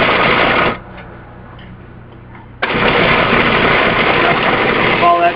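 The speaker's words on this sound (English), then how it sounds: "you're just going to turn your processor on, or however you like to whip together your mixture" Food processor whipping a smooth mixture, a loud buzzing motor that runs, cuts off for about two seconds of quieter room noise, then starts again and keeps whirring.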